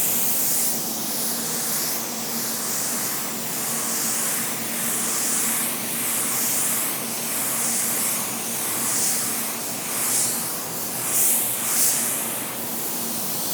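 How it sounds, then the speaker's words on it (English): A mini 1.2 spray gun atomizes clear coat in a steady, loud, broadband hiss that runs continuously with slight pulsing swells from pass to pass, no voices present. "Will it perform just like a regular spray gun, atomize that clear"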